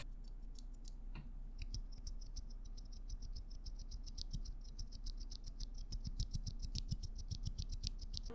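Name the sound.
scratchy mechanical keyboard switch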